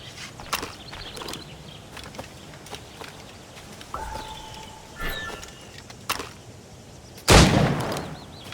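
Gunshots ringing out as scattered sharp cracks among footsteps and shuffling, ending in one loud booming blast that trails off.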